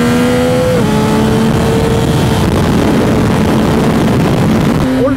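Yamaha MT09 motorcycle with an automatic gearbox revs hard and close, its engine pitch climbing and then dropping sharply as gears change by themselves, with a further rise near the end.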